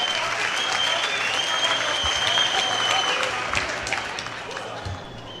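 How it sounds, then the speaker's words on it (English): An audience claps hands at a memorial lecture in Mogwase, a dense sustained round of applause from a large hall crowd that stays loud and then tapers slightly toward the end. "let's clap hands for National Executive Committee members who took their time to come and support the ANC Youth League"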